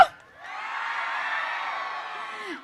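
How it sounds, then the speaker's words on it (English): A crowd at a campus song event in Telangana cheers and whoops in a sustained wash of noise, loud and lasting a couple of seconds. "Huge round of applause to Mallareddy Garu."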